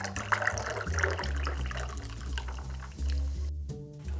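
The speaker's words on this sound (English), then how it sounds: "Now what we are going to do is top this with our favorite lemon lime soda" Sprite lemon-lime soda pouring into a strawberry cocktail, a close, fizzy liquid splash lasting a few seconds with a brief break near the end.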